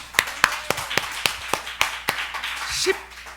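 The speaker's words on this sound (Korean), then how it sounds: "일하신 하나님께 영광의 박수." A small church congregation claps in distinct, separate strikes, about eight sharp claps at an uneven pace, close and clear, with a faint voice near the end.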